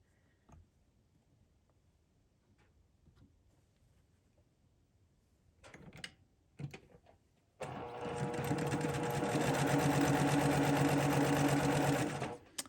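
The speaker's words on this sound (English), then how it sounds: "So I'm going to put that through the machine first." A sewing machine stitches quilt pieces together for a garden-themed quilt, running in a loud, steady whirring burst for about five seconds after a few quiet handling clicks.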